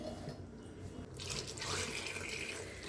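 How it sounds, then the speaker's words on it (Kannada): Water is poured into a pot of boiling fish curry masala for a Sunday fish sambar, giving a steady splashing and hissing pour that grows louder partway through, with no talking. "ಈ ಟೈಮಲ್ಲಿ ನಾನು ಎಷ್ಟು ತೆಳ್ಳಗೆ ಬೇಕೋ ಅಷ್ಟು ನೀರನ್ನ ಸೇರಿಸ್ಕೊತೀನಿ"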